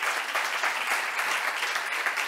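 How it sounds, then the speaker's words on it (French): Steady, dense audience applause for conference speaker Catherine Mathys, sustained and even at a cultural talk, with no speech over it. "Mesdames et messieurs, Catherine Mathis, on l'applaudit."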